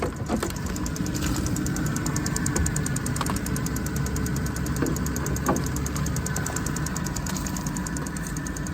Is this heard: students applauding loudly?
no